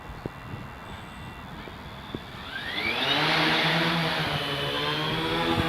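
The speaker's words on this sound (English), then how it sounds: "As you can see, he's just spinning up the motors, their props" Drone motors and propellers on a custom Connex build spin up for takeoff, a rising whine climbing in pitch and swelling into a loud, steady buzzing roar nearby.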